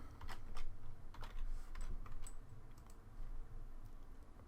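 Fast, light clicking of typing on a computer keyboard while entering text for Minecraft, a quick irregular patter of keystrokes at close range and moderate volume.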